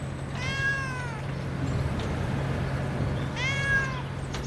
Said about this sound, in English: And there's the cat again.